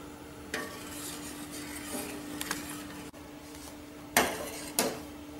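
Milk is stirred in a pot as it heats toward a boil: a quiet bubbling bed broken by several sharp scrapes and knocks of a spoon against the pot.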